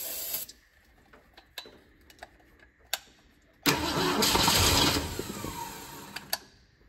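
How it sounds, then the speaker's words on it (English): A 1966 Ford Mustang GT, parked for ten years, cranks on starter fluid: scattered clicks and brief bursts, then about a second of loud, close engine turning over before it falls quiet again. "Let's try some starter fluid,"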